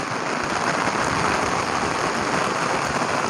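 Steady heavy rain pours down at the Lam Phra Phloeng dam, a dense, even hiss of drops striking wet rock and ground, loud and close throughout with no pauses.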